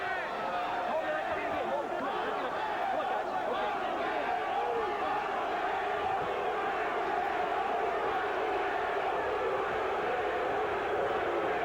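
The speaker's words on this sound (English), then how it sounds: "People aren't booing, they're chanting Louie, trying to get Louie, inspire him to let some punches go." A boxing arena crowd chants Louie during the IBF featherweight title fight between Jorge Paez and Louie Espinoza, a steady dense roar of voices that persists throughout.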